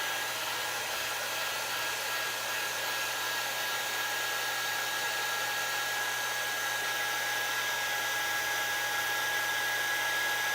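A hair dryer blows on a resin project, a steady, unbroken whine with a constant high tone, held close and loud for about ten seconds with no talk.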